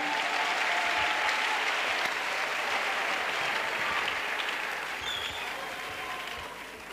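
Crowd applause at an evangelisation crusade, a dense, continuous wash of clapping that is strong at first and gradually fades over several seconds, with no speech over it.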